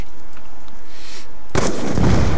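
Gunfire in the video game Call of Duty: Black Ops 2 Zombies, where a quiet stretch gives way to a sudden loud blast and a crackling burst of shots up close.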